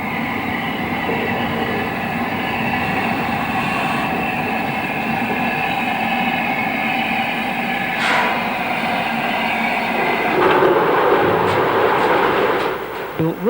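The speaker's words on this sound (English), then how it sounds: "Here, ex-Southern Railway Schools Class 440 Repton runs under the hopper." Ex-Southern Railway Schools Class steam locomotive 440 Repton rumbles steadily under a large coal hopper on a moorland heritage railway, a loud continuous rolling roar with clanking that swells near the end.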